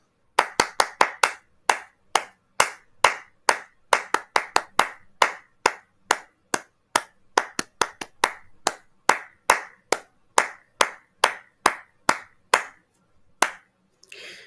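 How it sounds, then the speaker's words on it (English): Hands clap out the rhythm of a sung love song, about thirty crisp, close claps in an uneven long-and-short pattern, alone without any voice, pausing briefly near the end before a final clap. "if you were to clap that rhythm, it would probably sound something like this"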